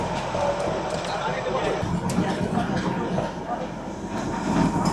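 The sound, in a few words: toy train running on rails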